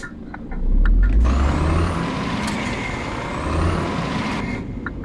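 Heavy truck in On The Road Truck Simulator on PS4 braking, with a low engine rumble and a hissing air brake release, steady and fairly loud throughout with a swell near the middle.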